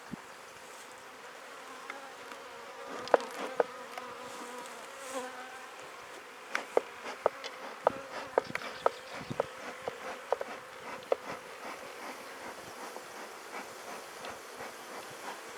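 A dense, steady buzzing of many honeybees close by at a hive, with scattered clicks and taps over the constant hum.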